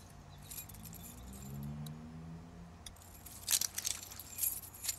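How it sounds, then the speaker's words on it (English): Keys jangle as they are picked up in The Walking Dead video game, a few bright metallic clinks in quick bursts toward the end over a low rumbling background. "But we can grab the keys"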